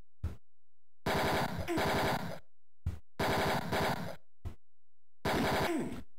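Gunfire in the video game Mean Streets comes in loud, rapid bursts of synthetic shots, several separate volleys broken by short single pops and clean silences, with no talking.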